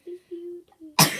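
A sudden loud sneeze bursts in right after a child's sung or spoken phrase, sharp and close, during a slime-making challenge at home.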